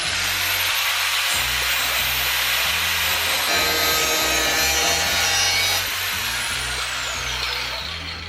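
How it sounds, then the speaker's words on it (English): An angle grinder cuts off a bolt on the fiberglass bumper of a 240SX, with a loud, continuous, high whine and grinding hiss held steady for several seconds at close range. "now we're going to cut it off with the grinder"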